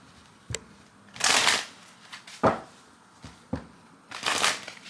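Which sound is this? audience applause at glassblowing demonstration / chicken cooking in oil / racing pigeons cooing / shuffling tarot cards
shuffling tarot cards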